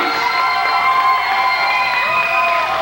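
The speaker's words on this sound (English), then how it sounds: "And I think he deserves a round of applause for that." A crowd at a wrestling event cheers and whoops loudly and continuously, with overlapping shouts close up for a few seconds.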